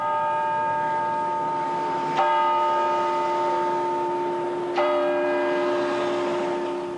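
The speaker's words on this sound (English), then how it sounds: "The tolling of church bells marked the passing of a man often referred to as Mr. Polish America." Church bells toll for a funeral in Chicago, two strong strikes about two and a half seconds apart, each leaving a long, sustained ringing hum that fades slowly between strikes.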